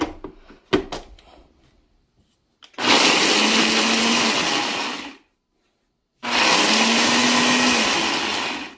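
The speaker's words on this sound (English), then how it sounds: "I have to use my bullet next I'm trying to grind the best I can the turkey tail" Bullet blender grinding dried turkey tail mushroom, two loud sustained whirring bursts of a few seconds each with a short pause between, preceded by faint clatter and handling.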